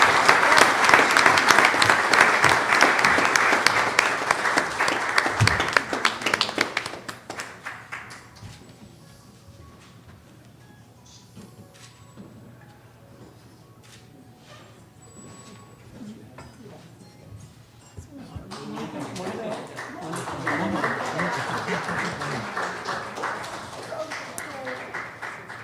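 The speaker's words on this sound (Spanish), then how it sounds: "Por favor, un aplauso para la doctora Mónica Marcela Montemayor" Conference audience applauding as a doctor is introduced to speak on molecular genealogy: a dense burst of clapping for several seconds, a quiet stretch with faint room noise, then a second round of applause swelling back in.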